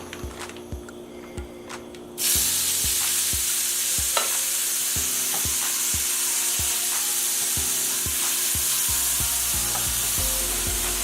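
Marinated lemongrass pork hits a hot grill with a sudden loud sizzle that holds steady, after a few tong clicks beforehand and occasional taps as pieces are placed.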